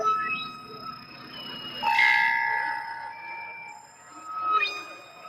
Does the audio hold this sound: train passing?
yes